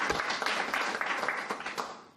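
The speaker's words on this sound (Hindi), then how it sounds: "जो हमारे नेता चिराग पासवान जी हैं, उनके लिए तालियां हो जाए" A crowd at a Lok Janshakti Party gathering in Delhi claps for party leader Chirag Paswan. The applause is loud and dense, with many overlapping sharp claps sustained for the whole stretch.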